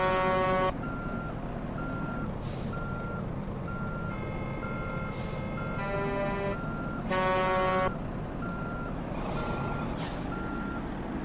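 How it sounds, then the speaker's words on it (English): Truck horns and reversing beeps in American Truck Simulator traffic: repeated loud honks blare in bursts over a steady engine rumble, with a second horn tone cutting in near the end. "Everybody's honking. We're having a honk fest."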